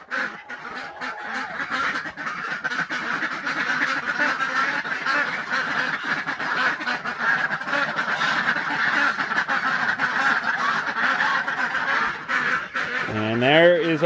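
Geese and chickens crowd a greenhouse used as winter housing on a snowy southern Minnesota farm, with continuous overlapping honking and clucking close by and a brief voice near the end.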